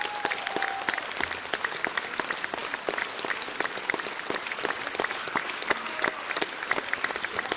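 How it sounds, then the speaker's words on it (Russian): An audience at a live folk ensemble concert claps steadily for several seconds, a dense, even patter of many hands with no cheering. "Ваши аплодисменты!"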